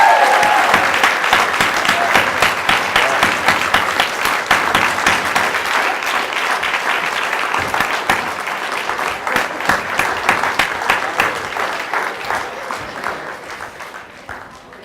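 A crowd at a Gainesville Police Department promotion ceremony keeps up loud, sustained applause for new officers, with individual claps clearly audible, gradually fading over about fifteen seconds.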